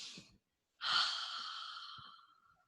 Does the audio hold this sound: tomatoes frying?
no